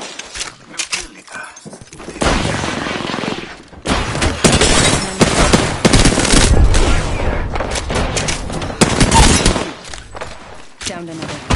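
Loud bursts of gunfire in a shooter video game. Sparse shots come first, then a dense, sustained stretch of automatic fire that tapers off near the end, with game voice callouts in the mix.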